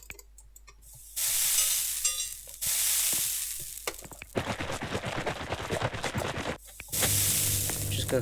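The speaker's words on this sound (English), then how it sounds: "just gonna fry all this" Food sizzles and hisses in a frying pan in Restaurant Tycoon 3, in loud bursts that start and stop, with stirring and scraping in between and quieter gaps.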